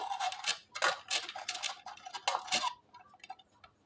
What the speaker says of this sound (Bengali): পনিরটা আমি এই গ্রেটার দিয়ে একটু গ্রেট করে নেব।